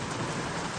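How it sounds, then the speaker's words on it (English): Rain drums steadily on the roof of a campervan, a dense, even hiss of drops with no pauses over a brief moment. "Sorry about the noise of the rain at the moment."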